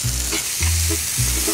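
Dried radish greens (siraegi) stir-fried in a pan over moderate heat, giving a close, loud sizzle with three rhythmic stirring pushes at regular intervals.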